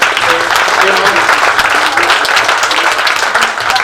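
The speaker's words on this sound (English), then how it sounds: "Big round of applause for Gary and Barbara." A theater crowd at an anniversary comedy show in Hamilton, Ontario gives a loud, close round of applause, dense clapping filling the room with cheering voices mixed in throughout.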